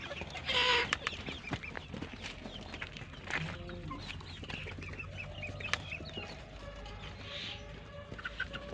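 Local farm chickens clucking and calling near and far, with scattered short clucks, an occasional louder squawk, and a low background of other farmyard sounds.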